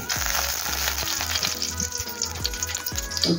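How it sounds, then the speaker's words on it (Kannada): A quarter teaspoon of cumin seeds frying in hot oil while making soya bhurji, a steady loud close sizzle with rapid, regular spoon knocks against the pan, with no voices. "ಎಣ್ಣೆ ಬಿಸಿಯಾಗಿದೆ ಕಾಲು ಟೀ ಸ್ಪೂನು ಜೀರಾ ಹಾಕ್ತಾ ಇದ್ದೇನೆ"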